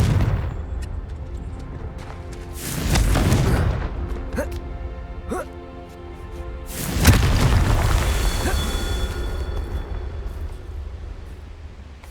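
Fire-spell explosions boom in the Hogwarts Legacy video game, two heavy rumbling blasts several seconds apart over continuous game noise, with a voice speaking briefly in between.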